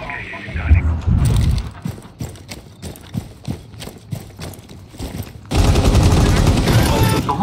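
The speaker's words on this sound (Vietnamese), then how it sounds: "Sao bắn mình ghê vậy?" Gunfire in Rainbow Six Siege, a string of sharp shots spaced irregularly, followed by a loud, dense burst of sustained firing toward the end.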